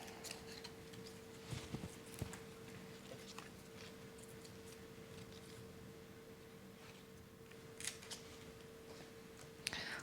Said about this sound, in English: So that's why I'm cutting off these dead, dried roots.